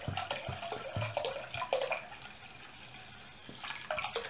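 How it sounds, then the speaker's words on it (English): French wine being poured from a freshly opened bottle into a mixing bowl, splashing and gurgling steadily up close with small glugs before easing off and briefly resuming. "I'm going to open the wine and pour it here into our bowl."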